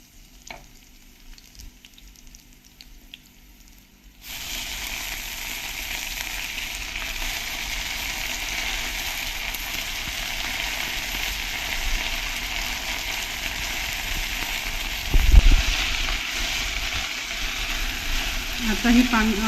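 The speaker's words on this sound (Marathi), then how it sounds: "आता ही पानं आपलं छान परतून घेऊ आणि याच्यावर झाकण ठेवूया." Chopped mulberry leaves tossed into a pan of browning garlic, a quiet start giving way to a loud, steady sizzle with stirring scrapes and a clatter near the end.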